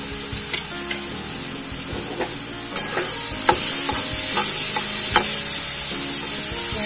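Tomatoes and spices with coriander powder and salt fry for a restaurant-style mushroom masala, a loud continuous close sizzle broken by sharp spatula clinks and scrapes that grows a little louder toward the end, with no one talking.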